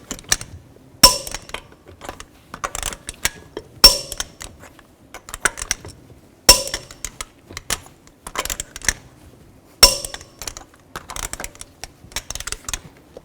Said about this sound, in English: Now I'm going to torque these lug nuts to 140 foot-pounds in a cross pattern or a star pattern to tighten the wheel down evenly.